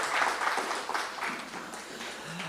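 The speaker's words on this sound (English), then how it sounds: "give him a nice round of applause" Applause for a doctor introduced at an outdoor political cottage meeting in Oropouche East, a short spell of steady, moderately loud clapping from a modest crowd.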